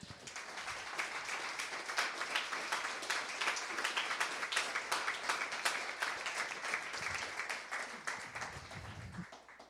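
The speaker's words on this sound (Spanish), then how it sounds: "denle un gran aplauso al Señor" A church congregation applauds the Lord with sustained, fairly distant clapping that holds steady for about ten seconds. Faint low thuds break in near the end.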